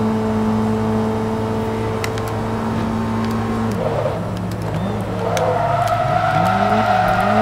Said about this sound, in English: Drifting, front wheel drive.